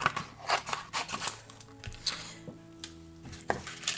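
Scissors trimming card stock for a handmade Christmas card: a string of quick, close snips and soft crunchy cuts in an uneven rhythm, with no talking.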